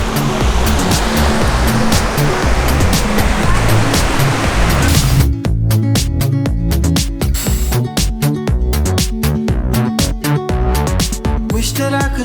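Waves roll onto a beach at Puerto Viejo, Costa Rica, a broad steady surf wash that dominates at first, then thins as sharp repeated clicks and taps sound over it, the water continuing underneath.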